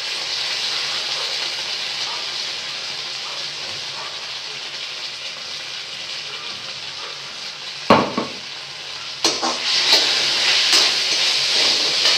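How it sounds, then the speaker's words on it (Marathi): Onion and tomato sauce sizzle in a pan, a steady close frying hiss running throughout, with a sharp louder burst near the end as more sauce goes in and the sizzle rises. "आता कांदा थोडासा परतून झालाय तर यामध्ये आता सॉस घालू"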